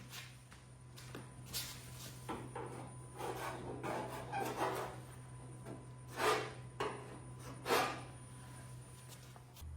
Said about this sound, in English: I'm gonna hit that with a scraper and see.